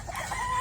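Farm chickens, hens and roosters together, cluck briefly at close range over a steady outdoor background, with one thin sustained call near the end.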